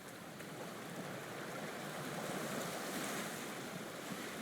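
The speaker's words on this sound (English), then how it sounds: "hear the sounds of the ocean lapping at the side of the ferry" Ocean water washes and laps steadily against the side of a moving ferry boat, a continuous broadband rush of surf with wind noise over it and no voices.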